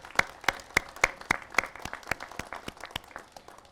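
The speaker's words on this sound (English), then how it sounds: "Let's give them a big round of applause." At a U.S. Attorney's Office ribbon-cutting ceremony, a crowd breaks into applause, opening with a few sharp, distinct claps in a quick rhythm that thicken into steady, moderately loud clapping from many hands nearby.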